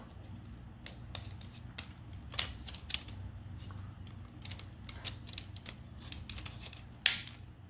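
Small plastic clicks and snaps as parts of a Tobot Galaxy Detectives Monster toy robot are pushed into place, scattered irregular taps at close range with one sharper click near the end, no talking.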